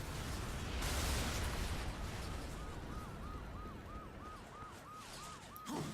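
A police siren sounds in the Darksiders hack-and-slash action video game, its regular wailing cycles repeating steadily over a loud, rumbling game soundscape, with no talking.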